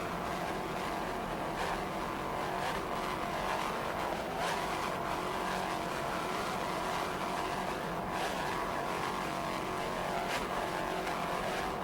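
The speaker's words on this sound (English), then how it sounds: "Right now it's Island Runner, D55, a 41-foot Apache." Deep roar of a 41-foot Apache offshore racing powerboat running at speed in an offshore race off Fort Lauderdale, a steady loud engine drone with wind and water rush throughout.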